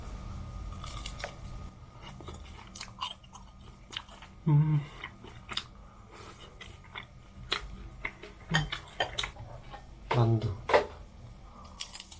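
Crisp crunching bites of a fried rice cake skewer, close to the mouth, coming in scattered bursts over quiet background noise.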